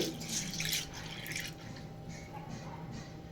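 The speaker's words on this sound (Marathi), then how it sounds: "हा साबुदाणा आता आपण पाण्याने चांगला धुवून घेऊ" Sago pearls washed with water in a kitchen, with splashing and swishing water and dripping, moderately close, loudest in the first second and then softer and steady.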